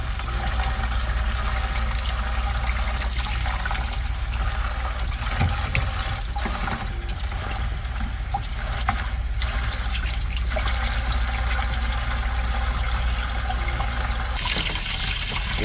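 Water runs continuously through a spray gun being flushed clean of liquid sound deadener, a steady close gushing and trickling wash with small splashes throughout.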